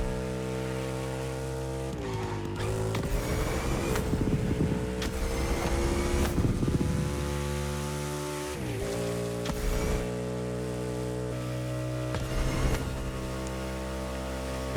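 Indian Scout cruiser motorcycle engine in a racing video game, a smooth tonal drone that rises and dips with throttle changes, several shifts audible, mid-level and alone without talk.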